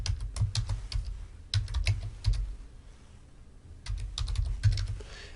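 Someone types a password on a computer keyboard, brisk clusters of crisp key clicks in quick bursts with a short pause midway, close and fairly soft over a low room hum.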